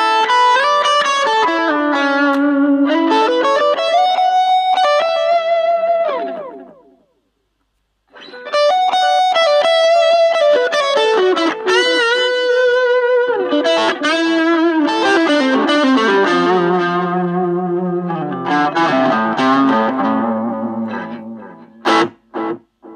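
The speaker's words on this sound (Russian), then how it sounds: "Классический мутный аналоговый дилей." Electric guitar through a Blackstar Fly3 amp with a murky analog delay effect, melodic lines trailing soft repeats, a short pause midway, then more phrases and a few sharp plucks at the end; no talking.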